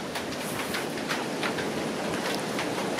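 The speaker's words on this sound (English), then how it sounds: "I would guess the wind is probably between 30 and 40 miles per hour. It is sort of sprinkling." Strong wind gusting at 30 to 40 mph with light sprinkling rain at a trail shelter on the Appalachian Trail, making a dense, continuous roar with rhythmic bursts and faint pattering.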